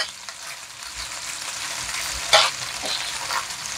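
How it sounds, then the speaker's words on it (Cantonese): Pork spare ribs fry in a hot pan on their second side, a bright crackling sizzle of fat with a sudden louder spit and popping burst midway, close and steady without talk. "就煎埋另一邊"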